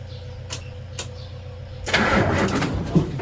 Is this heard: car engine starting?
yes